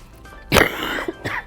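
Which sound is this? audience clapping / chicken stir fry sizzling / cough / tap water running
cough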